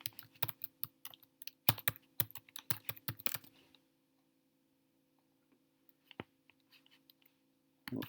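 Computer keyboard typing in bursts of quick clicking keystrokes, close and crisp over a faint steady hum, then a pause with a few isolated taps and a final flurry.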